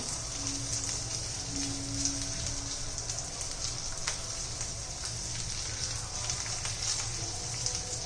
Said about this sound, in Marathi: ते पण ह्या तुपामध्ये परतून घ्यायचे चांगले